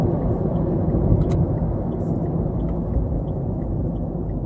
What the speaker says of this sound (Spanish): vamos a hacer una aceleración un poquitín más fuerte para que veáis cómo acelera el coche